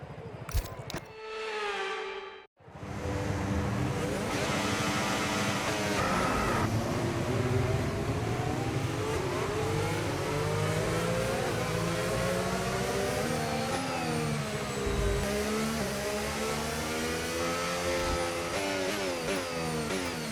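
Race car engine from the F1 25 video game at a home Grand Prix, whirring and revving steadily and loudly as the car drives onto the grid and parks, after a brief quiet dip near the start.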